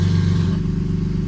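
A BMW E46 with its Turner valved catback exhaust valve open revs up, giving a steady, loud, deep engine drone close by with no talk over it.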